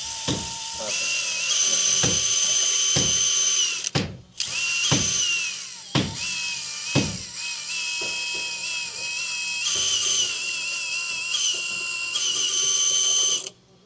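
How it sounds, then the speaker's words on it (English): A power drill whines in repeated bursts while boring into a boat hull during refit work, with short pauses between runs and voices talking at times. "It's gonna look nice once we drill it."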